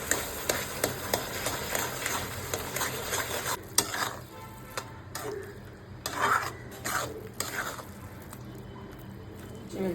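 A spoon stirs cooked sweet potato pieces in a pan for a Maharashtrian fasting shira, making a soft rhythmic scraping and gentle sizzle, with sharper scrapes near the start and quieter passes later.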